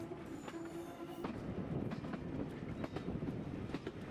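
A heritage steam train rumbles along the Tanfield Railway with steady clickety-clack of wheels over rail joints, heard from inside or alongside the carriages at moderate, continuous volume with no talking.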